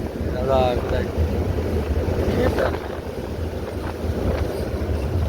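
Steady cold wind during rain rumbles and buffets against the microphone throughout, with a faint voice briefly audible early on.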